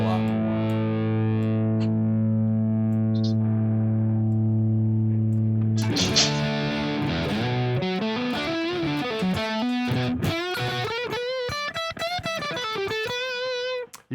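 Electric guitar through a Marshall Plexi amp, not fully cranked, with treble and presence turned down for a warm blues tone. Sustained distorted chords ring first, then a run of bent single-note lead lines plays loud and alone.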